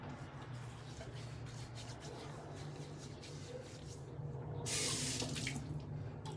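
A bathroom tap runs water into a sink while someone wets their face before shaving, a quiet steady stream with splashing and rubbing that swells louder near the end.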